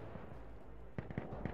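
Gunfire in the shooter game Insurgency Sandstorm: a quick burst of several shots near the end, somewhat distant and muffled over a low background rumble, with faint voice chat.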